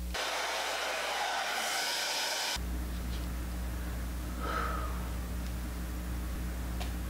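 A blow dryer runs on hair that is flipped upside down, a steady loud whooshing roar that drops to a lower, humming airflow partway through and holds close and continuous, with no talking.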